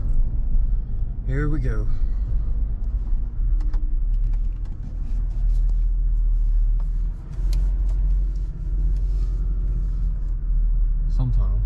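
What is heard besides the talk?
supercharged Chevy Tahoe driving, transmission shifting gears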